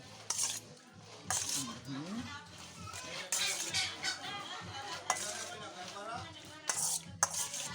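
Marinated pork being mixed by hand in a bowl at home, with scraping, clinking and wet slapping in irregular bursts close by, under voices and background chatter.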